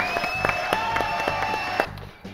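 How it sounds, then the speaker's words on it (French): Studio audience applauding a guest on a French talk show, brisk clapping under music with sustained tones, cutting off near the end. "Re-applaudissements pour Christophe Leroy."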